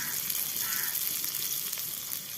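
Cut dried red chilies sizzle steadily as they fry on top of onions for a traditional susni shak dish, a continuous close, bright crackling hiss with no voices.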